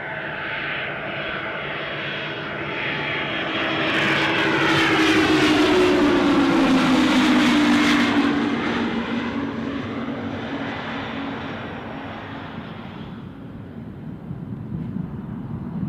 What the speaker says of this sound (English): Incoming Cessna.